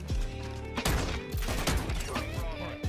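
Rapid gunfire in the video game Modern Warfare 2, a dense run of sharp cracking shots, some in quick bursts, loud and close over game background sound, with a voice briefly talking.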